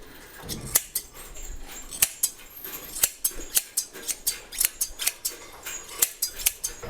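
Scissors snip at the tail hair of sacrificial calves, making quick metallic clicks and cuts in an irregular rhythm. The snipping is close over a low background.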